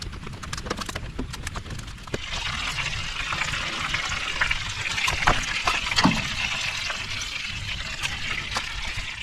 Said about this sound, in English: And draining fuel out of this Blue Bummer.